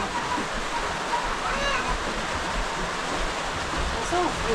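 Heavy rain pours as a dense, steady roar of broadband noise with no pauses, while faint voices and a few brief tonal sounds surface now and then underneath.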